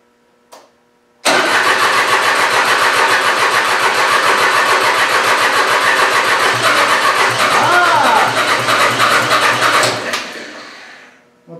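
A Buick 470 V8 cranks after a faint click and fires within a second, then runs loud and steady at a fast idle for about nine seconds before dropping away.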